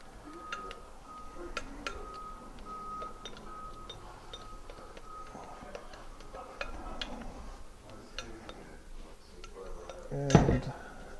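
Wild rice bread dough with molasses and salt being mixed in a bowl, heard as repeated light clinks and taps of a utensil against the bowl, ending in one louder knock.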